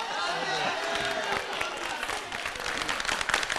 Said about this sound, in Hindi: बजा ताली बजा।